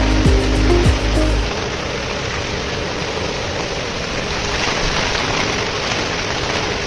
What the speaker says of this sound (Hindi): बारिश देख सकते इतना जोर से हो रहा है